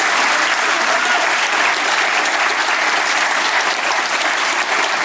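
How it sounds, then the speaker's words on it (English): Sustained audience applause at the close of a live interview event with Keir Starmer, a dense, steady wash of clapping from a large crowd that stays loud and even throughout. "Almost bang on time there with the final round of applause."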